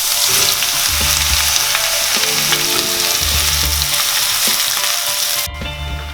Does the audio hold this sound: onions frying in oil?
yes